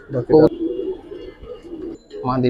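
Giribaz pigeons coo in a loft, with soft repeated low coos close to the microphone and a voice briefly speaking over them.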